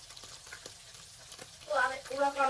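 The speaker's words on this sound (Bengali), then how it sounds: "এই জন্য আমি আরো কিছু মাছ ভেজে নিব।" Tengra fish frying in oil in a wok for a radish fish curry: quiet faint background at first, then a louder crackling sizzle bursts in near the end, close and alone.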